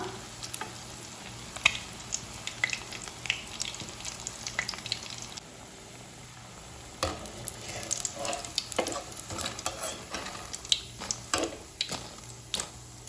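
Egg 65 pieces frying quietly in a pan after being flipped, a low crackling sizzle dotted with small pops and occasional utensil taps, close but soft, with no talking.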